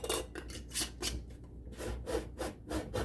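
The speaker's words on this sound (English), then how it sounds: "we are going to tighten this down one finger tight" A Harvest Guard reusable lid twisted down finger-tight onto a glass canning jar, giving repeated short rasping, grinding turns in an uneven rhythm, close and fairly quiet, with no talk.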